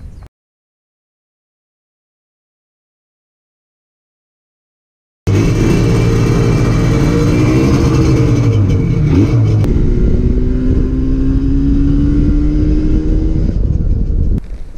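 A Yamaha RZ350 motorcycle on a break-in ride up Mines Road, starting loud and close after several seconds of silence, its engine note climbing steadily in pitch as it accelerates.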